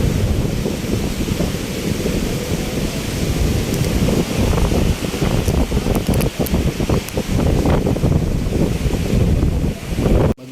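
Sea waves and strong wind on the coast at Mauban, Quezon, where a small boat lies; constant loud rushing surf with heavy wind buffeting the microphone throughout, no talking.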